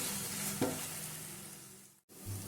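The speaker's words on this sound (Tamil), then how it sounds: "ஜீரகப்பொடி எல்லாம் சேர்த்து நல்லா வதக்கிப்போம்" Spices and cumin powder sautéing in a pan: a close, steady frying sizzle with stirring scrapes, one sharper scrape, then a brief gap before the sizzle resumes.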